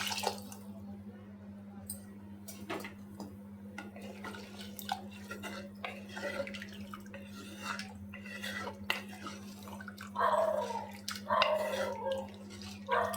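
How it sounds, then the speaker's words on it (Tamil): Plain water pours and splashes into a pot of turkey berry curry in short bursts, growing louder near the end, over a steady low hum. "இன்னொரு கப்பு பச்சை தண்ணி ஊற்றிக்கலாம்"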